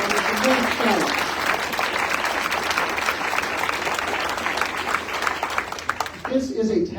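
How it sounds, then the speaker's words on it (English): A crowd at a congressional candidates forum gives dense, sustained applause that stays loud and even throughout, with faint voices at the start and end. "please give a huge round of applause to all of our candidates for putting themselves forward"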